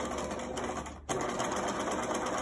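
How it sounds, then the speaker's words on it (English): A sewing machine back-stitches a cloth surgical mask with a steady, fast, close mechanical whir. A brief dip near the middle marks the switch into reverse, and then the stitching runs on. No voices are heard. "I am going to back stitch here."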